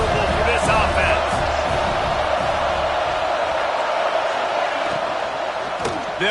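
A dense stadium crowd roars steadily throughout a Texas A&M versus Tennessee college football game in the College Football 26 video game, loud and continuous, with the roar dipping slightly near the end.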